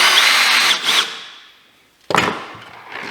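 Power drill driving a screw into wood, two bursts of loud whirring: a longer spin that winds down and fades, then after a pause a sharp, gritty second run as the screw bites in.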